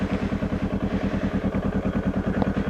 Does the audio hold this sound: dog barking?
no